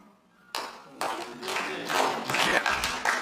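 An audience bursts into applause after a moment of quiet, the clapping building into a dense, sustained patter of many hands, with a voice speaking faintly beneath.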